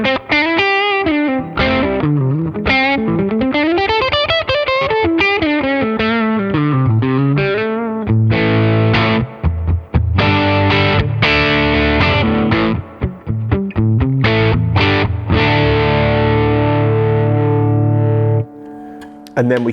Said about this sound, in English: And very quickly I add a little bit of gain.